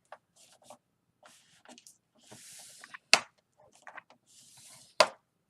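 Paper for a pocket recipe card is scored with a tool, giving soft scraping strokes and two sharp, close snaps against quiet pauses.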